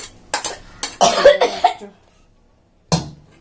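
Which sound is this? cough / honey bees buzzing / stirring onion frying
cough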